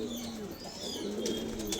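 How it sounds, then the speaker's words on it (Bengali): A young white Giribaz pigeon coos nearby in soft, low tremulous notes, faint against a background hiss with a few brief higher chirps. "এই যে যেটা ডাকছে সাদা গোলা, এটাও বাচ্চা আছে গিরিবাজের"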